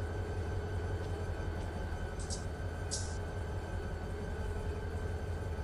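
Steady, continuous rumble of a train rolling past in Run 8 Train Simulator, with a constant hum and drone and two brief faint high clicks partway through.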